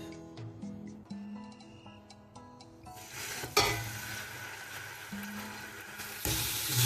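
Lamb pieces for a barley couscous dropped into a hot pan, starting with tonal clinks and stirring, then a loud broadband sizzle of frying meat with occasional bursts and pan scrapes, close and steady without talk.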